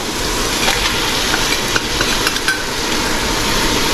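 Fish heads being stirred into cooked masala in a pan give off a steady sizzle, with light scraping and tapping against the pan as the mix is turned.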